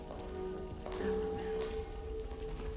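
Steady rain falls in the video game Silent Hill 2 (2024 remake), a soft even hiss of drops on surfaces that continues throughout, with a low ambient tone and a brief muffled shift midway.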